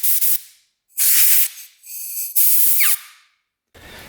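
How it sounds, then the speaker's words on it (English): Compressed air blasts through a two-stroke dirt bike carburetor in four loud, close hissing bursts separated by short silences, one with a whistling tone, then a brief rough puff at the end. "And then you'll blow it through with compressed air."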